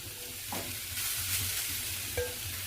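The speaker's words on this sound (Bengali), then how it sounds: "ফ্রাইং প্যানটা গরম করে আমি এর মধ্যে একটা কোরানো নারকোল অ্যাড করছি।" Grated coconut is stirred in a hot pan, a soft continuous sizzle with light scraping strokes, close and fairly quiet.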